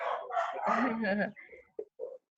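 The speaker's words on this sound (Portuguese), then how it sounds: "Uma cachorrada latindo, vou botar no mudo." A pack of dogs barks in irregular overlapping bursts, fairly close and loud, ending with two short, sharp barks.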